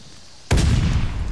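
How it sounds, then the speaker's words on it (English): A grenade explodes in a video game shooter, one sudden loud boom with a broad rumbling decay that carries on to the end, after a quiet lead-in. "I threw that grenade in there"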